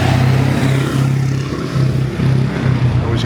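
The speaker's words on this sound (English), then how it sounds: "Noisy truck." A noisy truck passes along a city street on Pittsburgh's North Shore, its engine a loud, close, pulsing rumble throughout the short stretch, with some faint background noise.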